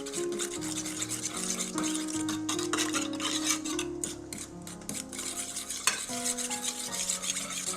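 Sauce of ponzu-style dipping base with a pinch of shichimi pepper and a dash of chili oil being stirred in a bowl, a steady close scraping and swishing that runs continuously over soft background music.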